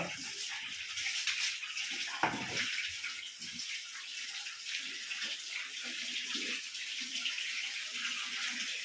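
Water splashes and trickles steadily while a young stray puppy is bathed, a continuous wet wash with a few small knocks and no voices.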